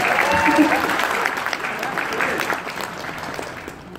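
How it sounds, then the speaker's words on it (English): A convention crowd at anime closing ceremonies gives a round of applause, sustained clapping and cheering that gradually tapers off toward the end. "So give them a round of applause."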